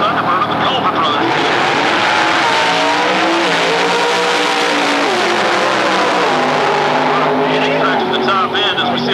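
On a drag strip at Atlanta Dragway in 1999, a twin turbo truck races a supercharged 1996 Ford Thunderbird, engines roaring through rising, shifting gear pitches with tire hiss. The run is loud and continuous, with an announcer talking over it.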